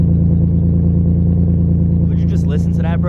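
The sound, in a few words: turbocharged Nissan 370Z Nismo with Tomei exhaust revving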